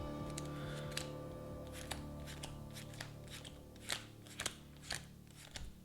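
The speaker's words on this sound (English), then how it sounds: "I'm going to shuffle this encounter deck one more time and then draw" Cards from an Arkham Horror encounter deck being shuffled, a series of short papery riffles and snaps that turn into sharper clustered bursts near the end, close and fairly quiet, with no talking.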